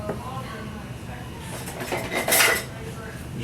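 Frozen mulberries being mashed in a pot, with a run of metal utensil scrapes and clinks against the pot that grow louder and busier toward the middle, heard close up.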